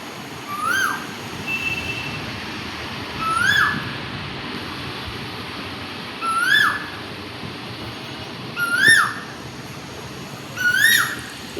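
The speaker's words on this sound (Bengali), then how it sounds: "আপনারা কোকিল পাখির ডাকটা শোনাচ্ছি" An Asian koel calls from a peepal tree, five clear rising cries spaced evenly over steady outdoor background noise, each call standing out loudly.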